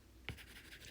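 A single short marker or pen stroke on a board during a math lesson on linear equations, a brief scratchy burst followed by faint room tone.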